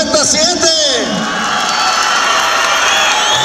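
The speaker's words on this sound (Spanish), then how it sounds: "¡venga el aplauso los del 77!" A rodeo crowd at a jaripeo university roping tournament in a large bullring erupts in loud applause, cheers and whoops; an announcer's voice rises briefly over the start before the sustained cheering carries on alone.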